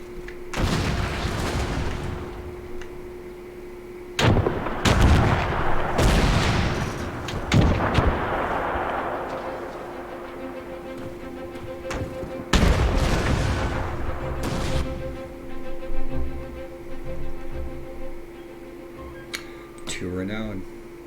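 Bursts of gunfire and heavy artillery booms from a World War One trench-warfare video game, sharp cracks and rumbling blasts repeating irregularly throughout, loud and close, with someone talking over parts of it.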